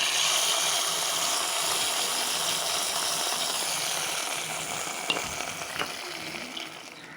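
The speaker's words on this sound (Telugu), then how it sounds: "తాళింపు వేసుకుందాం." Spices temper in hot oil for a raw green tomato and brinjal pot chutney. A close, steady sizzle fades slightly toward the end, with a few faint clinks and no voices.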